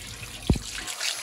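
Very hot water runs from a tap in a steady, close trickle, with one brief louder splash partway through.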